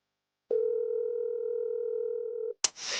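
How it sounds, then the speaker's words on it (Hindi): A telephone call tone on an unanswered call: one steady electronic tone lasting about two seconds from a silent start, then cut off by a short noisy click and crackle. No voices are heard. "ये फोन क्यों नहीं उठा रहा?"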